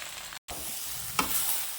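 Gongura leaves frying in hot oil with spices in a pan, a steady close sizzle with a brief dropout, then a sharper crackle burst as more goes in.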